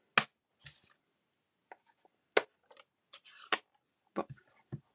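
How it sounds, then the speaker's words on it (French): Scissors cutting out paper pieces for banners, a series of crisp snips and paper rustles in irregular bursts, close and alone with quiet gaps between cuts. "Ceux-là aussi, je vais les découper."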